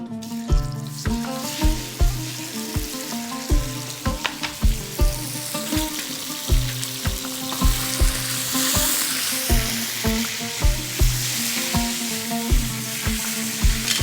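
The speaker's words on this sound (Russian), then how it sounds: "Слышите, да, как шипит, как шкварчит?" Loud, steady sizzling of meat for lagman in a hot pan, broken by repeated scraping knocks of a utensil stirring at an uneven rhythm.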